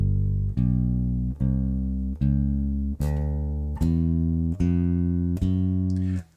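Bass guitar walking a 12-bar blues line with a chromatic passing note, eight evenly spaced, deep plucked notes ringing one after another, loud and alone without any voices.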